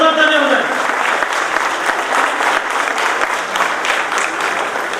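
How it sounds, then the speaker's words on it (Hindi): Audience applause at an Ambedkar Jayanti celebration, loud sustained clapping from a crowd that begins right after a spoken call and continues steadily, with a voice heard briefly at the start. "जोरदार तालियां बजाएं।"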